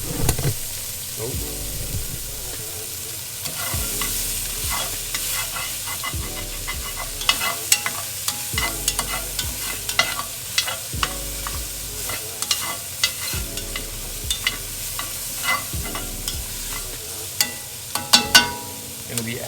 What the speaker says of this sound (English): We're gonna be adding our 1 yellow onion. We're gonna let that cook down for a minute.